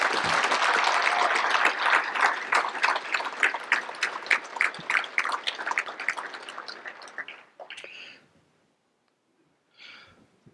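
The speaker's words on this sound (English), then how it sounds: "give him a round of applause for the great work he has done" Audience at a sheriff's office award ceremony applauds, a loud dense burst of clapping that thins into scattered individual claps and dies away, followed by two brief faint rustles in near silence.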